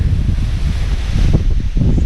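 Strong wind buffets the microphone at a paragliding launch site in Western Australia, a loud, constant roar with gusty rumbling surges and no voices.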